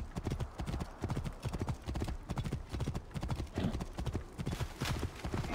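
Horse hooves clip-clopping at a steady trotting rhythm in the video game Assassin's Creed Origins, close and continuous throughout with faint game ambience underneath.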